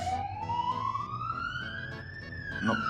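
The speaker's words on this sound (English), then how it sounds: "I think the ambulance just went past." An ambulance's wailing siren rises steadily in pitch, then slowly falls as it passes by at moderate distance, heard indoors.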